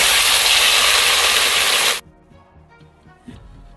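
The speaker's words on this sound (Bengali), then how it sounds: "এবারে ডালটায় জল দিয়ে দিচ্ছি" Mung dal frying in hot oil erupts into a loud, steady hissing sizzle when water is poured in, cutting off abruptly after about two seconds and leaving quiet kitchen clatter.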